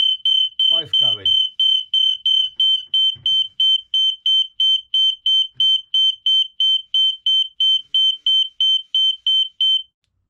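Two interconnected mains-powered smoke alarms blare together during a test in a fast, relentless string of shrill beeps, a voice briefly speaking over the start before the alarm stops.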